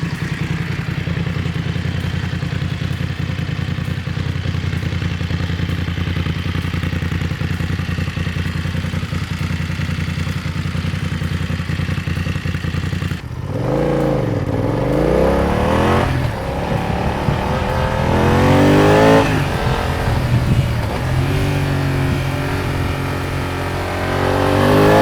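BMW F900XR motorcycle with an aftermarket exhaust, its engine droning loud and steady at idle, then revving up and down through rising and falling sweeps, close by with no talk.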